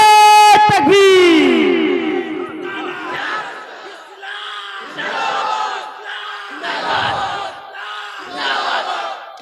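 A large crowd at a religious gathering chants slogans back in unison in several loud, rhythmic waves after a leader's calls, with amplified reverberation throughout.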